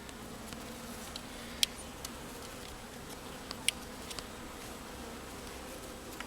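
Steady insect buzzing from many honey bees being installed from a package fills the background, a low continuous drone with a few faint ticks and clicks scattered throughout.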